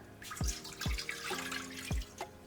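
Water poured into a saucepan to make a poaching liquid, heard as a few distinct drips and splashes with bright watery spatter, faint and close.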